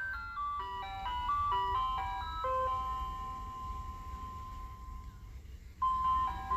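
An ice cream truck passing by plays its chiming jingle melody, clear tinkling notes in a steady tune over low traffic rumble, fading out and then returning near the end.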